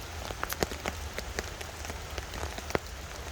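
Heavy rain drumming on a tarp tent at a wild camp, a dense close patter with sharper individual drops hitting the fabric at irregular intervals.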